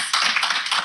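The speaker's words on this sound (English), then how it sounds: "another cheer, another round of applause" Dense, continuous clapping from a live radio studio audience, steady and fairly loud throughout with no voices on top.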